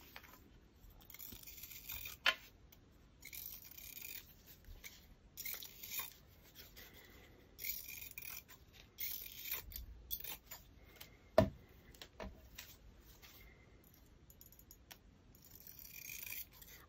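Scissors snip through fabric for a collaged fabric journal in quiet, irregular cuts and rustles, each faint and close, with pauses between strokes.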